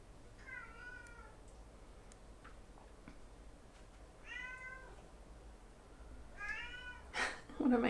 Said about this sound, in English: One of my cats is very interested in coming in here.